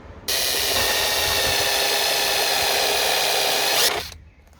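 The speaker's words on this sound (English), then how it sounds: "now I'm going to drill it through." A power drill bores through a car door card for a logo puddle light: one steady, loud whining run of about three and a half seconds, starting abruptly and winding down at the end.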